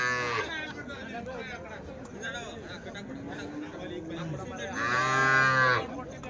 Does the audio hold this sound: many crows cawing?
no